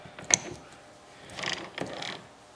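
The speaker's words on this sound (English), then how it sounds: "you can see that's a shifting action. There we go, into another gear." A Yamaha YZ125 two-stroke transmission being shifted by hand on the bench gives a sharp metallic click followed by two softer ratcheting clunks of gears engaging, close and quiet.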